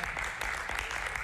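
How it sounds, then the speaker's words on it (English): A church congregation claps during a sermon, a short burst of dense, moderately distant applause from many hands. "it deserves a clap."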